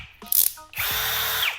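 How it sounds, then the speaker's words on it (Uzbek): A cordless screwdriver drill, part of a tool set alongside an angle grinder and rotary hammer, whirs up for a sustained high-pitched run after a few short clicks, loud and close. "Mana bu shurpayorimizni ishlashi."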